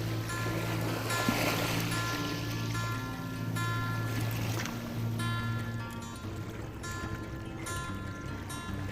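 Sea waves wash and lap around a sailing boat at anchor off Sayada during an Ionian sailing trip, a steady soft swash with a low engine-like hum underneath.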